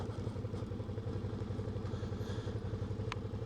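A motorcycle engine runs close by on a rough, potholed gravel track with road tyres, its steady rumbling, pulsing beat continuous throughout, with a brief light clatter near the end.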